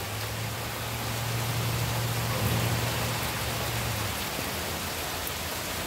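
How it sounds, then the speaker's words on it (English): Steady, dense hiss of heavy rain pours down continuously, with a low hum running beneath it for the first few seconds. "It's raining real bad out here."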